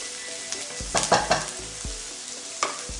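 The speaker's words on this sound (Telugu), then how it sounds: "జస్ట్ కొంచెం వేసానండి చూడండి ఫ్రై అవుతుంది ఇప్పుడు" Food frying and being stirred in a pan while cooking egg ginger fried rice gives a steady, close sizzle, with several scraping stirs that swell briefly above the hiss.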